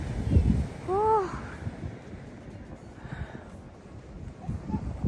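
Wind gusts buffet the microphone on a cold winter beach, with low rumbling bursts and a steady airy roar, while a voice makes brief sounds in between.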